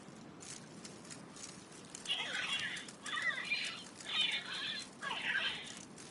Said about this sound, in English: The birds in the aviary are beautiful.